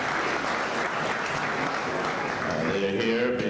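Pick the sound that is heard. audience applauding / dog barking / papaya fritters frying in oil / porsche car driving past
audience applauding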